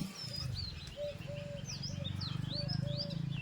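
Birds call at their roosting spot near a Gujarati village home, with repeated rising chirps and short whistled tweets over a low steady rumble, moderately faint.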